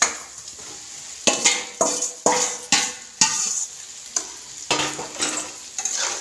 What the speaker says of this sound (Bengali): ভালো করে এবার এটাকে কষাতে থাকবো